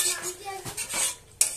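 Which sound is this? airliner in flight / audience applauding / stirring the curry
stirring the curry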